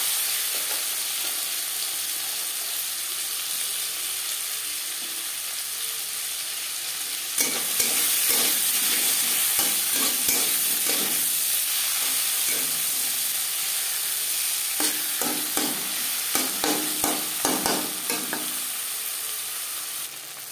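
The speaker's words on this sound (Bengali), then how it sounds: "মাছ ভাজা কড়াইতে আবারও তেল দিয়েছি। দিয়ে দেব টমেটো," Onion and tomato frying in oil in a wok that was just used to fry fish, for a Bengali fish curry. A soft hiss rises into loud sizzling with repeated stirring scrapes, and no voices are heard.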